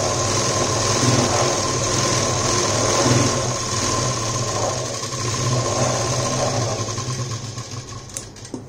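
A sewing machine runs steadily while stitching fabric for a neck design, a dense continuous mechanical whir with a rapid rhythmic chatter, close and loud, slowing slightly near the end, no talking.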